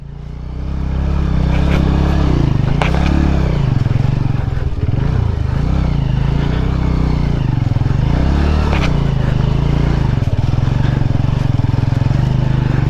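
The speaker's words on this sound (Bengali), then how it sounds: "এত কম সিসির বাইক নিয়ে আমরা পাহাড়ের এতটা উপরে উঠবো কি করে" A low-cc motorcycle labors up a hill road, its engine droning loud and close with wavering revs and load changes throughout, steady and continuous.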